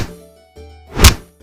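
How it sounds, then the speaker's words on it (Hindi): A single heavy thump lands in a comedy beating scene, a hard punch-like impact set against a low hum, with nothing else around it. "कहने से सारे आदमी मिलकर कपाड़िया को खूब पीटे।"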